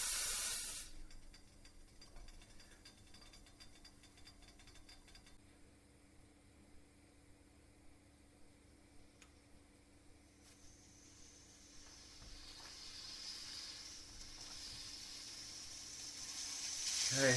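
The pressure relief valve on a Bellman stove-top espresso steamer vents steam with a steady, faint hiss that swells into a louder, brighter rush near the end, with no voices over it.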